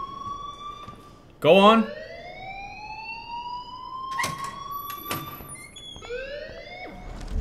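A fire alarm in the video game Life Is Strange, heard as a steady ringing tone with a sudden loud burst, along with game sound effects and a voice speaking briefly.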